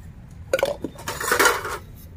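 Metal pots, pans and utensils are scrubbed and knocked together while being washed, making close, sharp clattering bursts in the middle of an otherwise quiet moment with no talk.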